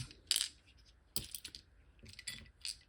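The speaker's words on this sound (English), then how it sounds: "And then let's round up all of the dice that we got." Board game dice are scooped and gathered together in a handful of separate clattering bursts, sharp rattles and clicks spaced over a few seconds, close but fairly quiet.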